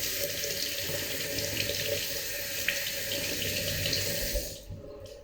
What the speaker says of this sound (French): Je le repasse à l'eau. L'eau froide, bien sûr, pour éviter le choc thermique.